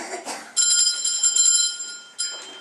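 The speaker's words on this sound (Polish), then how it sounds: "Nagle dzwonek jeden," An electric school bell at a Catholic school rings loud and shrill in a sustained burst, briefly cuts out, then starts again, with voices audible at the start.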